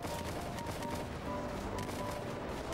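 Rapid gunfire in a zombie apocalypse Minecraft world, a steady loud stream of shots with no pauses, dense and close throughout.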